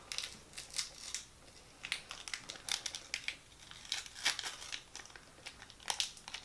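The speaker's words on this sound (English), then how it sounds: "I'm going to kind of peel off the sticker, and this opens up like an envelope" A sticker is peeled off an envelope-style package, giving faint, close crinkly rustles and crackles in irregular bursts over several seconds, with no voices.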